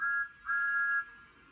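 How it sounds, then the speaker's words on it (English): Thomas the Tank Engine's train whistle in the Roblox game Nowhere Railway, two clear high-pitched toots, a short one and then a longer one, alone and fairly quiet. "I'm going to give you a whistle from Thomas."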